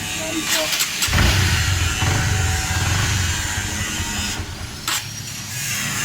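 A Honda CB150 motorcycle with a throttle-sensor fault starts and runs roughly, its engine note uneven and faltering as it fails to settle into an idle, heard close alongside people talking.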